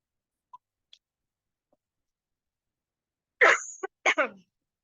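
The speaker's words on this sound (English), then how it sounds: "I'm so sorry for the coughing attack." After near silence with a couple of tiny clicks, a short burst of harsh coughs comes close to the mic, three rough barks in quick succession.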